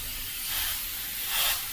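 An airbrush spraying paint at 20 psi gives a soft, close hiss in two gentle swells, steady and alone.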